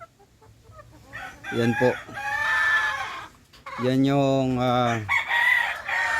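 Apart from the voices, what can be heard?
chickens clucking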